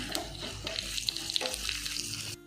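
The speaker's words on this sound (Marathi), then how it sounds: "तडका असा टाकून द्यायचा एकदम मस्त" Tempering of curry leaves and chutney poured into hot oil over kadhi pakoda, a loud close crackling sizzle lasting a couple of seconds before cutting off abruptly.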